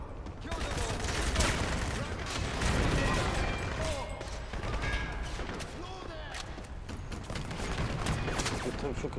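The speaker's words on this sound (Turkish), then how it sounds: "O şey top atıyor, çıkma onun önüne." Cannon fire from an enemy in the shooter Crysis Warhead, heard as steady, dense booming and gunfire through a continuous battle din, with players chatting over it.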